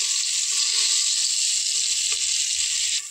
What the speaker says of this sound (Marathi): बघा अद्रक लसूण पेस्ट पण आता भाजलेली आहे तेलामध्ये मस्त